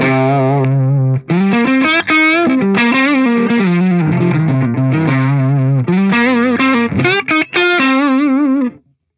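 Electric guitar through an Axe-Fx III running a Blues Junior amp model with its controls turned up, breaking up and compressing. Loud, continuous overdriven notes and chords ring out with short gaps and no talking.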